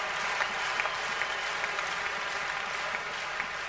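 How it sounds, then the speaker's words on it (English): Sustained applause from a tennis crowd cheering Becker on during a tiebreak in the 1992 Brussels final against Courier, a dense steady wash of clapping with no voices. "And the crowd now willing Becker on."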